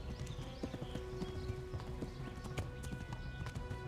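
Horse hooves clip-clopping at a quick steady rhythm in the video game Kingdom Come: Deliverance, faint and continuous with occasional snorts and game effects mixed in.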